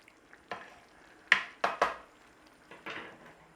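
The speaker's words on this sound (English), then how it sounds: "Stir in." A spoon working tomato paste into red lentil bolognese in a pot, a few distinct scraping strokes and soft clunks against the pot, quiet and close with short pauses between them.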